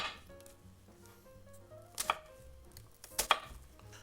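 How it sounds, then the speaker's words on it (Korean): A knife cuts half an onion into rough squares on a board, with scattered soft slicing sounds, two sharper chops partway through and a final chop near the end, close and fairly quiet with no talking. "이제 양파 반 개 자르겠습니다"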